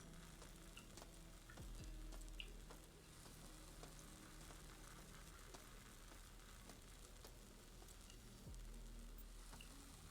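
Continuous sizzling of fake biocontamination in the System Shock video game, a dense crackling fry that runs steadily throughout with occasional soft thumps underneath, with no speech.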